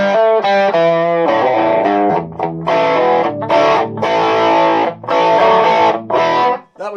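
An electric guitar runs through a Fulltone Ranger pedal with the guitar volume at 10, giving a loud, gritty distorted tone with bright chords and single notes strummed in bursts, played alone with short gaps.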